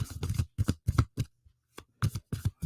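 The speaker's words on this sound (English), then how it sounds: "Let's get a good shuffle in here." A deck of tarot cards is riffled and shuffled in quick bursts, crisp fluttering card sounds in several close runs separated by brief pauses.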